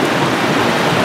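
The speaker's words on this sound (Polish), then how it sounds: "I pioruny strzelają." A rainstorm breaks over a river near Rytel, with loud continuous rain hiss and a low rumble of thunder beneath it, no voices heard.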